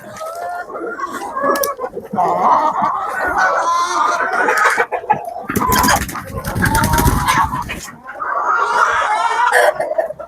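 Khan-Khyap and Barkovsky chickens cluck and squawk busily close by, a dense overlapping chorus of hen calls with a burst of louder flapping commotion in the middle and occasional voices.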